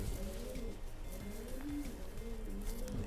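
Racing pigeons coo in a low, throaty, repeated rolling pattern, several birds overlapping steadily throughout at close range with no talk.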